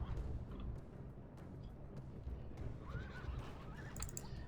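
Mounted horse archers thunder across a battle in Rome: Total War: Barbarian Invasion, a dense rumble of hooves under a brief whinny and scattered neighs.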